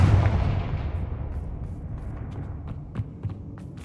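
A Confringo fire spell blasts in the Hogwarts Legacy video game, opening as a loud, deep booming burst that rumbles on and decays, with a few faint crackling ticks trailing after.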